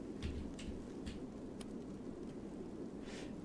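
Steady hiss of rain with soft low thunder rumbles during gameplay in the video game It Lurks Below, faint and continuous, with a few brief light taps.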